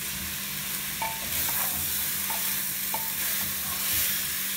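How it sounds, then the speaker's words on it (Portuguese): Sliced small bell pepper sautéing in a pan, a quiet steady sizzle with a few faint utensil taps, close and alone. "E vou deixar isso refogar um pouquinho mais."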